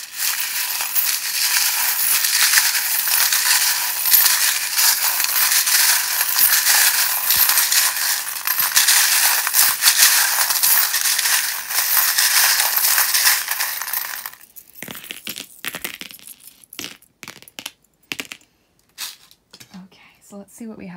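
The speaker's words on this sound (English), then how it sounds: "if you don't like the sound of the charms being shuffled" Tarot charms being shuffled make a dense, loud, continuous metallic jingling and rattling for most of the stretch, then stop and give way to sparse clicks and a quiet voice.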